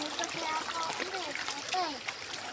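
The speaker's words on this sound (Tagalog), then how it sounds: "Di maghuhugas ako ng paa dito." Water splashing as feet are washed in a shallow rural stream in Mindanao, a close, continuous mix of splatter and trickle with a voice speaking over it.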